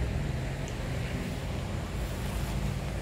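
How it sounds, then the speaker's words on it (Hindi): Steady wind gusting across the open water at Gandhi Sagar Dam, with hills around, a continuous broadband rush that never lets up and is loud and close on the microphone. "बहुत सही हवा चल रही है अभी"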